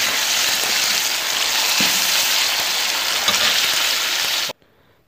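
Tomatoes tossed into hot, browned fried onions for a chicken biryani sizzle loudly and steadily in the pan, with a few stirring knocks, before the frying noise cuts off abruptly near the end.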